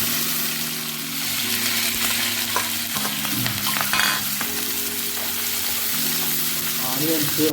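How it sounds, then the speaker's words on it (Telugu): Cut green chillies and onions dropped into hot oil for a chicken fry, a dense close crackle and sizzle with intermittent stirring clatter and a faint hum of the kitchen beneath, no words spoken. "ఇప్పుడు కట్ చేసి రెడీగా పెట్టుకున్న మిర్చి ఆనియన్స్ని ఈ ఆయిల్ వేస్తాను"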